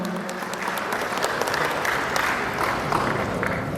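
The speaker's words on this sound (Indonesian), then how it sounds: "Kita iringi juga dengan tepuk tangan Bapak Ibu semua." Ceremony audience in Palembang applauding as a police chief hangs a garland on a village security officer, a full sustained round of clapping from many people, loud and even with no clear voices over it.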